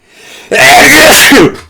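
One loud, close sneeze with a brief inhale before it, bursting out and trailing off quickly.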